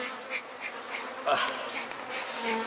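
Aggressive bees swarm around a huge wild honeycomb on a sloping hillside, their buzzing passing close in waves, with individual insects flying past the microphone; no speech.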